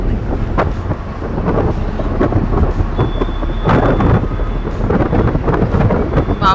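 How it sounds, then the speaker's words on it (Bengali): Cold wind buffets the microphone in loud, continuous gusts with a low rumble, steady throughout with no clear talk. "কি ঠান্ডা হাওয়া দিচ্ছিল,"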